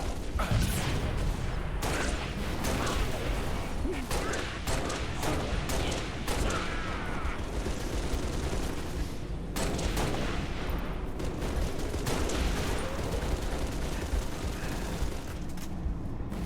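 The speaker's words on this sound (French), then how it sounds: "Tir de suppression." Suppressive gunfire in the video game Halo Reach, dense bursts of shots and rattling automatic fire with blasts, sustained loud and busy throughout.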